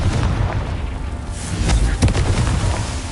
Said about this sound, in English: Revelio! Confringo!